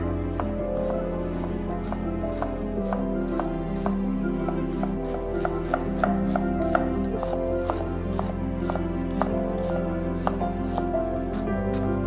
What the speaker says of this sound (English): One onion, finely chopped.